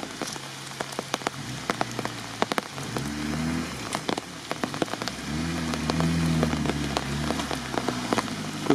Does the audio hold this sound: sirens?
no